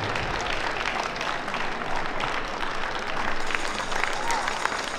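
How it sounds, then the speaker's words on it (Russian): Continuous applause from the audience at a ballroom dance competition during an American Smooth pro-am event, a dense steady clatter of many hands in a large hall, with some crowd noise mixed in. "Спасибо, аплодисменты."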